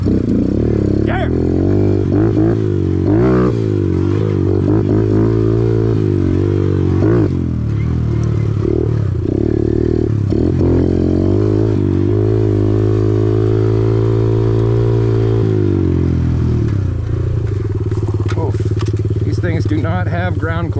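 A Kawasaki KLX110 pit bike ridden near a freeway, its small engine droning loud and close throughout, with pitch rising and falling as it revs and shifts, easing off toward the end.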